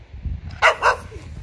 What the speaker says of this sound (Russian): С ошейником собачка.